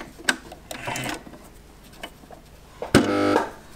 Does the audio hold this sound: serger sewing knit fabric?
yes